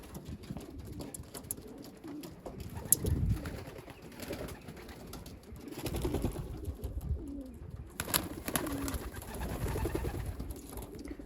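Racing pigeons coo continuously at their loft, a soft, layered chorus of low burbling calls from several birds nearby, with faint rustling and no talk.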